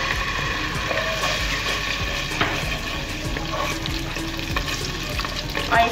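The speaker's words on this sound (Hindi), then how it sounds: "इसके बाद हम इसके अंदर डाल देंगे लहसुन अदरक का पेस्ट 1 टेबल स्पून।" Garlic ginger paste frying in oil in a pan, a steady close sizzle broken by repeated stirring scrapes and clinks.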